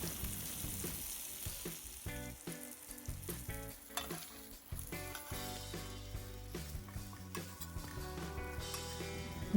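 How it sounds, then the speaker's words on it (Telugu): Eggplant pieces coated in masala fry in oil in a pan over a medium flame, giving a steady close sizzle with occasional stirring clinks, set against tonal background music. "వాటిని ఒక్కొక్కటిగా ప్యాన్లో వేసుకొని మీడియం ఫ్లేమ్లో ముక్కలను అటు ఇటు తిప్పుకుంటూ"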